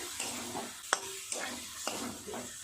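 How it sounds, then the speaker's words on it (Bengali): Chicken, potato and spices stir-fry in a pan for chicken chop filling, with a continuous close sizzle and a few regular scraping stirs of a utensil. "এবার চিকেন আলু সব মশলা খুব সুন্দরভাবে কষিয়ে নেব"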